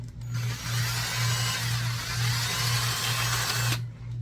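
A drill bit turns steadily through a small plastic part of a 1:72 Type 212 model submarine, a continuous close whirring buzz with a strong low hum that holds evenly for a few seconds before stopping abruptly.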